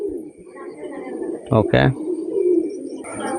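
Pigeons of an unlimited-lineage flying breed, kept for sale, coo softly in a low steady murmur, with a brief spoken word cutting in midway.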